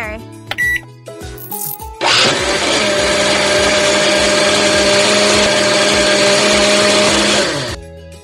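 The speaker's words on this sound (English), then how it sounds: "Turn on the blender." A cartoonish video game blender whirs loudly for about five seconds at a steady high pitch, following short chimes and cash-register-like jingles, then cuts off.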